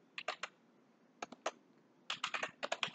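Product description being typed on a computer keyboard: close, crisp keystrokes in three quick bursts separated by short pauses, with no talking.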